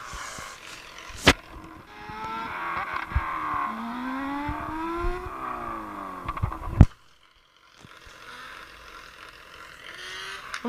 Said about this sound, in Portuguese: Cala a boca dessa moto.